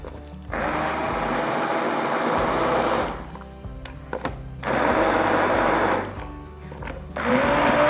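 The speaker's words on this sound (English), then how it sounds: "we are going to use our immersion blender to blend these up nicely" An immersion blender whirs loudly in long bursts, pausing twice briefly between runs, its pitch shifting slightly as it churns cooked apples into applesauce.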